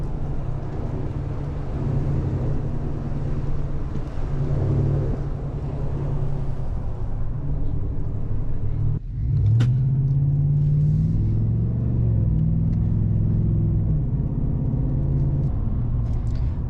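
A GMC Sierra AT4 pickup truck drives along, its cabin filled with a steady low engine and road rumble throughout, with a brief dip and bump midway before the drone resumes.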